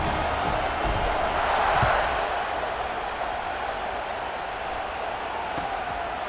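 A stadium crowd in the College Football 26 video game roars before kickoff, a broad, steady wash of distant cheering that swells briefly near the two-second mark, with a commentator's voice faintly over it.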